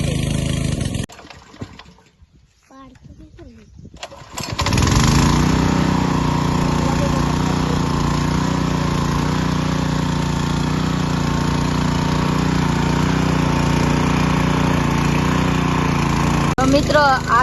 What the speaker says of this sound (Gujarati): આ કોતરડામાંથી પાણી અમે મશીન દ્વારા ખેતર લગી પહોંચાડીએ છીએ